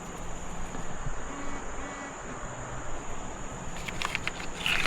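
Insects drone faintly around a creek during a summer metal-detecting outing, a thin steady buzz hanging over soft outdoor rustling and light movement, with no voices.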